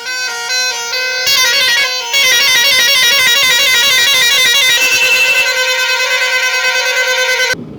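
Transport trucks sound their horns together in a protest strike, a dense, continuous blare of many overlapping horn tones held loud and steady for several seconds, with a brief pause near the start.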